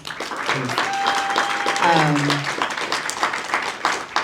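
Audience applause at a community poetry reading, a steady crowd clapping wash with a voice or tonal sound briefly rising above it early on, fading slightly toward the end.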